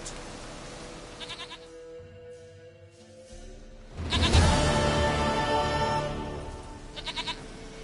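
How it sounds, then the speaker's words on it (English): A goat in The Witcher III video game bleats in a short, wavering call near the start, then a louder, longer bleat in the middle, followed by one more brief bleat, all over a quiet game soundscape with ambient tones. "Goat of mine, dearest, sweetest goat."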